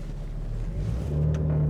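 An old Mercedes-Benz car accelerating, its engine note swelling into a steady low drone that grows louder over a second or two, with no voices.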